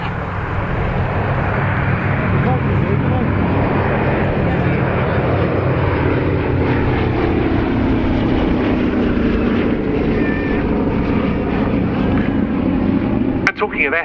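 The B-17G Flying Fortress "Sally B" passes over a Cosford airshow, its piston engines making a loud, steady droning roar that stays strong throughout, with commentary heard over it.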